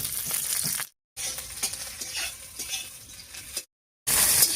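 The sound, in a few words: whole garlic and green chillies frying in oil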